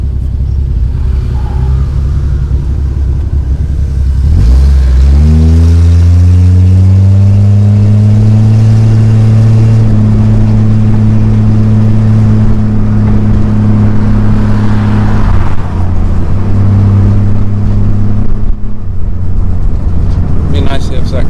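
A 1963 Ford Falcon Futura hardtop engine rumbles close by while driving down a main street. It revs up from idle into a rising, steady drone that holds, eases, then returns, with people talking inside the car.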